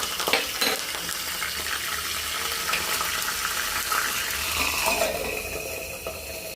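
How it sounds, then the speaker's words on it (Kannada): Asafoetida and curry leaf tempering poured into raw tomato chutney, crackling and sizzling with scattered pops and stirring clatter, fairly quiet and close, no voices. "ಇಂಗು ಹಾಗೂ ಕರಿಬೇವಿನ ಒಗ್ಗರಣೆಯನ್ನು ಇದಕ್ಕೆ"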